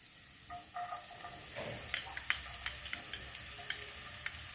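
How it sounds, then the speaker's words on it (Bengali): Finely chopped medium onion fries in a pan over a high flame with a soft, low sizzle, punctuated by a steady run of small spatula taps and scrapes. "এবার গ্যাসটাকে হাই ফ্লেমে রেখে 2 থেকে 3 মিনিট ভেজে নেব।"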